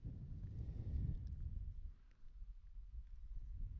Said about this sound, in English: It's so fucking windy out here.